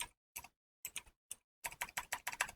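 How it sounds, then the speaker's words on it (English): Keys clack on a computer keyboard while a name is typed into a label template, first a few isolated taps spaced apart, then a quicker run of close, crisp keystrokes. "type a name if I could figure out how to spell one"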